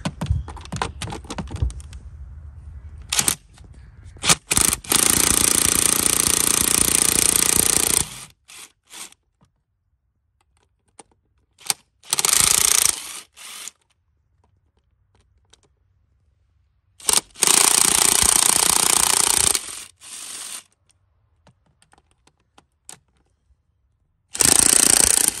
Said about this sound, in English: Got a swivel, 10-millimeter, using my impact.